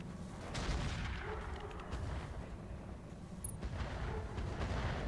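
Heavy weapons fire from an Ifrit mech in the Roguetech mod of BattleTech, a steady rumbling barrage of low booms and blasts that rolls on without pause from start to finish.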